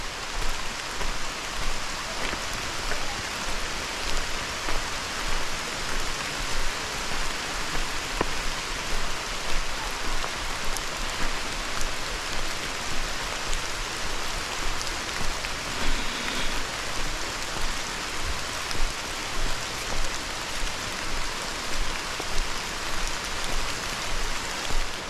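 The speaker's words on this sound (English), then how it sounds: "Started raining on us here about 5 minutes ago" Steady rain falls continuously in Cuyahoga Valley National Park, a dense hiss of drops pattering on surfaces with no talking.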